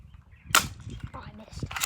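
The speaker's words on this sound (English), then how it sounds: "Here's the shooting of my BB gun. The one that shoots metal BBs." BB gun firing metal BBs at a can outdoors: one sharp crack near the start, followed by faint rustling and a second smaller snap at the end.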